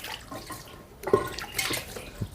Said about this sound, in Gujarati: બેઠી બેઠી વાસણ કરે